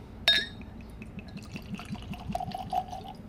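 Bourbon poured into a Glencairn glass, a soft liquid pour and trickle with small glassy drips after a sharp initial clink, close and fairly quiet.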